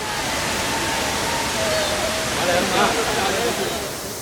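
Palaruvi waterfall gives a loud, continuous rushing roar of falling water that swells slightly midway. A voice is faintly present underneath.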